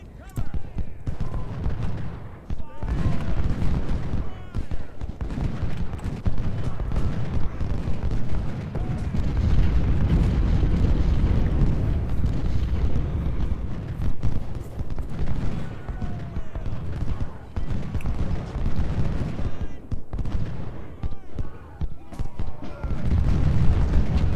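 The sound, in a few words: artillery and rifle fire in Ultimate General: Civil War video game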